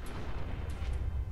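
A car exploding in Fallout 4: a dense, rumbling burst of explosion-like noise with heavy low-end booms, continuous and fairly loud throughout, with a few crackling pops on top.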